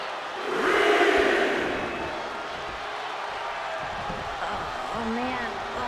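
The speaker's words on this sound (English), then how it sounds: "A deafening cheer from the WWE Universe is reverberating around us." A WWE arena crowd roars at a wrestling match between Michin and Tiffany Stratton, a loud reverberant cheer that swells early and then holds as a broad wash, with a commentator's voice talking over it.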